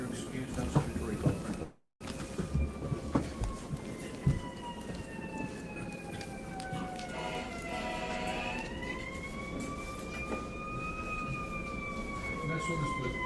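An ambulance siren passes outside a courtroom, its wailing tone rising and falling steadily for more than ten seconds as a distant background sound. People talk faintly in the room.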